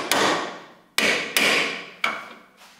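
A roofer's hammer strikes four times at irregular intervals, each blow a sharp, loud, close crack that rings out and decays before the next, with no talking.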